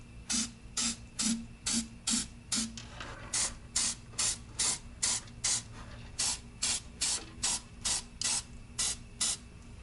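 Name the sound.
aerosol copper gasket spray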